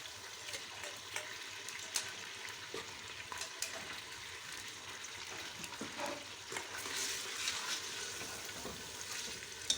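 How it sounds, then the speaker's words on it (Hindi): Ginger garlic paste sizzles and fries in a pan for Sindhi biryani, a steady close crackle with occasional scraping stir sounds and louder bursts of sizzle. "अब ये मेरे पास अदरक लहसुन की पेस्ट बनाई है, ये डाल दूंगी।"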